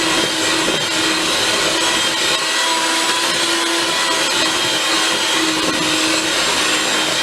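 An electric mixer creams butter and sugar for chocolate chip cookie dough, giving a loud, continuous whirring drone that holds steady up close, alone, with no talking.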